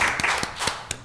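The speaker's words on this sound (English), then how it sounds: "Definite round of applause" Short burst of applause at a school board meeting, a handful of distinct loud claps standing out over a steady wash of hand-clapping from the room, no talk.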